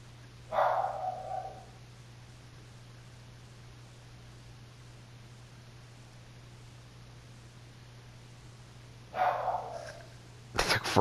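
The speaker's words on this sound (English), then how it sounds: "My dog's barking for some reason." A dog barks in two short bursts several seconds apart, faint and distant over a steady electrical hum, with a sharp noise at the end.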